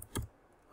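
Computer keyboard keys clicking while Java code is typed, two short bursts of keystrokes separated by a quiet pause, close and fairly faint.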